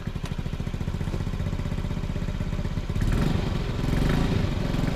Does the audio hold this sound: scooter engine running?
yes